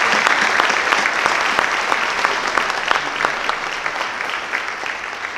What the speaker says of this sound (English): Would you please join me in a round of applause for our 2024